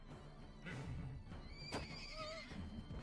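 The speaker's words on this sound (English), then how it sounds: "The extent where I'm even going to send in my horse" A horse neighs loudly in the video game Wartales, a single bright whinny rising and falling over a steady ambient game backdrop, with no talk.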